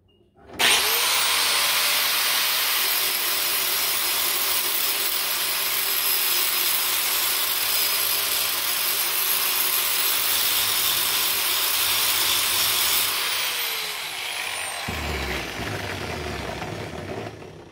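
Electric arc welding on a steel drowning rod for beaver trapping gives a loud, steady crackling buzz that starts abruptly, runs unbroken for about thirteen seconds and then cuts out, leaving a low hum behind.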